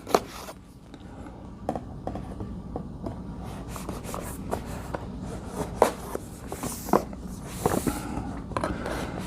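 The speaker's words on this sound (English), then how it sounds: "So we'll go ahead and cut the box open." A blade scrapes and slices through the tape and cardboard of a board game box, giving a run of short scratchy strokes and small clicks close by.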